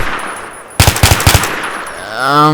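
A gun fitted with a muzzle attachment fires in the video game Unturned, a loud burst of about six rapid shots followed by a rising mechanical tone, with no talking.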